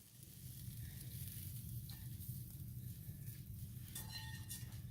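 Green and red bell peppers sauté in a skillet on a stovetop with a soft, continuous sizzle, joined near the end by a few light clinks of a utensil against the pan.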